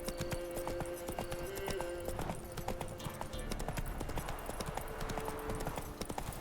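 Roach the horse trots along in The Witcher 3, hooves clip-clopping in a steady, even rhythm throughout, close and fairly quiet, with game music and a faint voice underneath.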